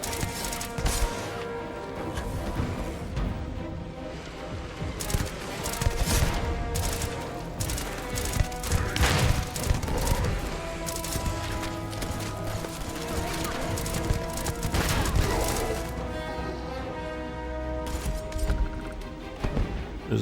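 Shots fired in a Starfield fight come as repeated sharp bursts over a busy mix of game effects and music, moderately loud and fairly steady throughout.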